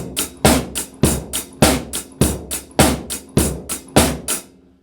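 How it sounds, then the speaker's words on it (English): A straight rock beat on a drum kit, with an even pattern of punchy kick and snare hits under steady cymbal or hi-hat strokes, played close and loud for a few bars. "A straight rock beat sounds like this."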